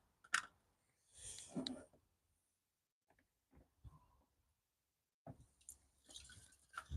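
Rainwater poured from a container into a potted plant lands in a few short, close splashes and drips, separated by quiet pauses.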